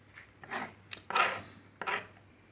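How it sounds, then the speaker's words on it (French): Fresh coriander chopped finely with a knife on a board, a few close rasping cuts in short bursts. "Ça, il faut hacher finement."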